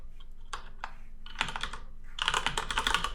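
Keys clatter on a computer keyboard in quick, uneven bursts, with a short sparse stretch of taps followed by a denser run of fast, close typing and no voices.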